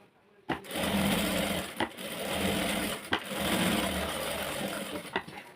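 A sewing machine stitches a sleeve close by, running in steady whirring bursts split by short pauses.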